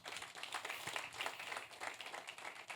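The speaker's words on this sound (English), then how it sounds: "I think Juliette deserves another round of applause." Audience applause at a Lagos conference panel session, a steady wash of many hands clapping at moderate distance, sustained evenly without voices.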